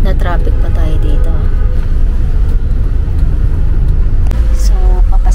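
Road traffic in Hanoi, with a steady car and engine rumble that runs the whole time. Horn-like tonal bursts and people talking sit over it.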